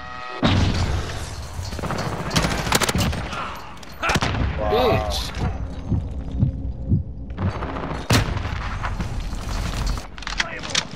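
A video game battle with a thrown grenade: repeated booming blasts and sharp bursts of gunfire, heavy and close, broken by a brief whooshing effect and distant rumbles.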